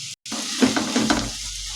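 Tomato, green chili and ginger garlic paste sautéing in a pan, a steady close sizzle with stirring scrapes, briefly cut out near the start.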